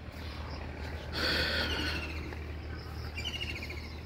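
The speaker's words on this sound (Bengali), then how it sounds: "পাখির কিচিমিচি শব্দ।" Birds chirp and tweet beside a river with sandy banks, a few faint calls rising above a steady outdoor background hum.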